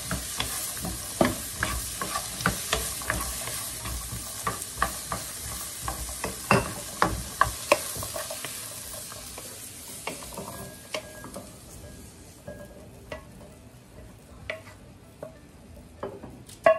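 Xà bần being stir-fried in a pan, with a steady sizzle under repeated sharp scrapes and clacks of the utensil, loud at first and then thinning out and quieter toward the end.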